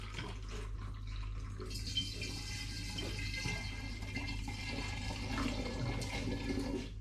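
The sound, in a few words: spring water poured through a funnel to wash out apple pulp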